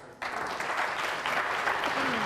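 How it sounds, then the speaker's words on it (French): Audience applause at a student presentation from Polytech's computer science program, a sudden, dense wash of clapping from a crowd that holds steady and continuous throughout. "Allez, pour les applaudir"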